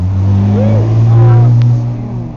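A car engine hums loudly and revs up, rising and falling in pitch, with a voice speaking over it.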